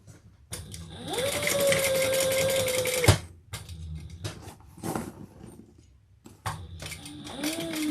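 A sewing machine sews a handbag seam in a loud two-second burst of whirring stitching, followed by clicks and handling noises and a brief second start near the end.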